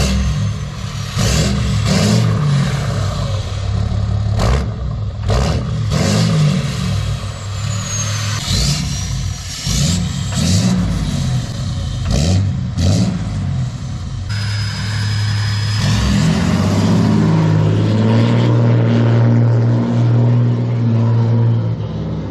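A 6.7 Cummins diesel truck revving hard, first through a 5-inch straight pipe, then through a muffler: repeated loud bursts of throttle with rumbling rises and falls, then a steadier, deeper drone toward the end.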